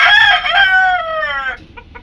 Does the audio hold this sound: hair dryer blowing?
no